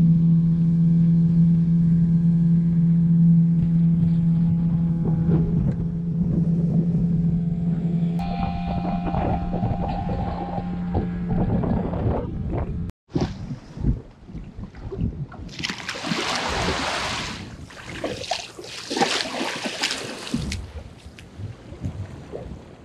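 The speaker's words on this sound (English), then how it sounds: "So we went on a three-mile dinghy ride while Natalie entertained herself" A dinghy outboard motor drones steadily while crossing water on a three-mile ride, a low hum with wind noise, later giving way to rougher splashing and wind buffeting, with no talking.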